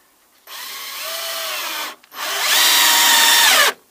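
A power drill drives a long screw into wooden roof soffit boarding in two loud whirring bursts, the second one longer and higher pitched, close by and with no talk.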